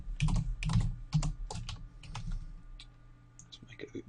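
Someone types on a computer keyboard while working on packaging artwork, making a close, quick run of clicking keystrokes in uneven bursts that thin out toward the end.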